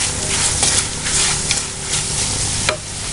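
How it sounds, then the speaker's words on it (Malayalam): Garlic pickle masala with fenugreek sautéing in a pan for a Kerala-style garlic pickle, giving a steady close sizzle and fry with a few scraping stirs of a spoon against the pan. "2-3 മിനിറ്റ് നന്നായിട്ട് വഴറ്റണം"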